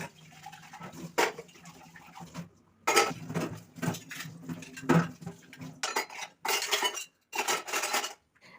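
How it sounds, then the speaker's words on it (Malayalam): Dishes, pots and cutlery being washed in a home kitchen, with repeated clinks and clatters of metal utensils and pans in irregular bursts, close and fairly loud, with brief pauses between handling. "അപ്പം അങ്ങനെ നമ്മുടെ പാത്രം കഴുകിയൊക്കെയാണ് നടന്നുകൊണ്ടിരിക്കുന്നത് കേട്ടോ."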